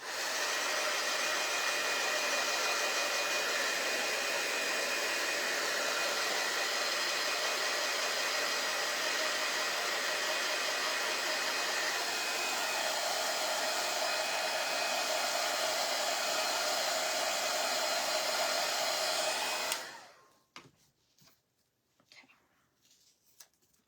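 A hair dryer blowing steadily and loudly for about twenty seconds, with a constant airy whine, then switching off abruptly, leaving faint scattered handling noises.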